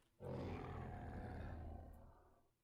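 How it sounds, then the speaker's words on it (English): Spicomellus, a dinosaur in the video game Dinosaur Simulator, lets out a single deep, loud roar that starts abruptly, holds steady for about a second and a half, then fades out. "See the roar."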